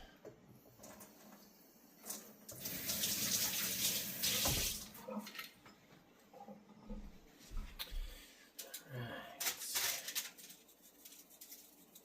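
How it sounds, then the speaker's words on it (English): A running kitchen tap splashes as hands are rinsed after rubbing mustard onto pork ribs for roasting. The water gushes in two bursts of splashing, separated by quieter drips and handling noise. "Rinse my hands off, of course."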